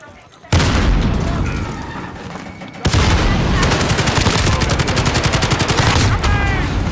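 Rapid first-person shooter gunfire crackles in dense bursts, loud and close, with a short quieter stretch before a second sustained volley; voices talk over the shooting.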